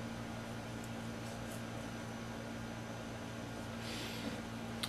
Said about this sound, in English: I know you hear some noise in the background. That's my air conditioner.